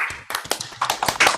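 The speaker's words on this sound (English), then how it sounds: "let's all unmute ourselves and give Terry a round of applause" Online meeting participants on unmuted microphones clapping for a presenter: a thin, scattered patter of a few people's claps, uneven and close, with no talking.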